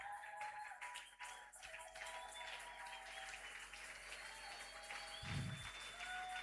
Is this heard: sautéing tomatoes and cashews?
no